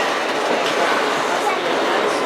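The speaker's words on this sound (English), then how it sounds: "I think we're starting to slow down for a stop here, I guess." Steady broadband rumble of a heritage excursion train rolling along the track, continuous and fairly loud with a dense, even wash of wheel and carriage noise throughout; people talk faintly over it.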